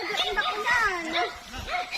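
A dog on a farm in Dulag, Leyte barks and yips while giving chase, short bursts repeating close by amid excited shouting voices.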